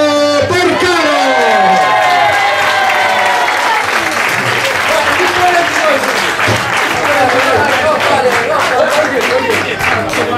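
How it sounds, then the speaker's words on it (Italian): Sustained applause from a crowd celebrating the winner of a slalom race, loud and dense throughout, with a voice talking over the clapping. "Applausi, signori, non si pagano."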